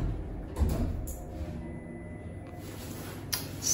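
A malfunctioning Thyssenkrupp sliding elevator door at the Donnerbergerbrücke railway station gives a few faint clunks and a soft rattle against a steady low hum, with a sharper knock near the end.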